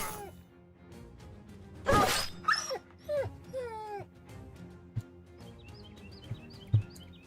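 Dog sounds from the video game Battle Brothers: a sharp crash-like burst, then several whining, yelping cries in quick succession, followed by fainter scattered yips and thuds.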